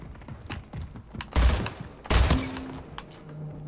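Gunfire from the sci-fi shooter Splitgate: two sharp, loud bursts about a second apart, each with quick rattling shots, with faint clicks and a short tone between them.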